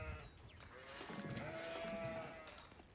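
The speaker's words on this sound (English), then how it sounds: "So he found 1 more sheep." Sheep bleating in the real-time strategy game Age of Empires IV, a few short wavering bleats over a quiet game background, fairly close and moderately loud, with no speech.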